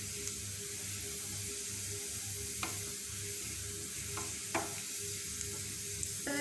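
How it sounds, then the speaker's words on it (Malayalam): Food sautés in a pan for a homemade chicken pizza, with a steady close sizzle throughout and a few sharp scrapes and clinks of stirring. "അതുവരെ ഒന്ന് വഴറ്റിയെടുക്കാം."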